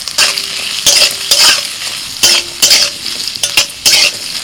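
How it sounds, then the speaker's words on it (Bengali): Chopped onion, ginger, garlic and green chili fry in mustard oil in a wok, giving a steady hiss broken by several loud scraping stir strokes at an uneven rhythm, close up, with no voices. "কড়াইতে অল্প করে সরষের তেল দিয়েছি, আর ওর মধ্যে দিয়ে দিচ্ছি আমি পেঁয়াজ।"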